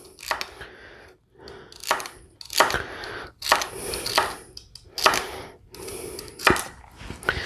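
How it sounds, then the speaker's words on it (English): Celery cut with a knife on a board, about eight crisp chops in an uneven rhythm with short pauses between, close and clear. "Then we want to chop our celery"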